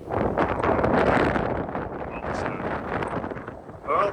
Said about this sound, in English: The wind is still not dying down.